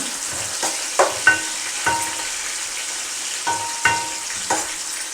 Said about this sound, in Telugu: సగం సగమా ఉల్లిపాయలు వేగేదాకా పచ్చివాసన పోయేదాకా వేయించుకున్నాము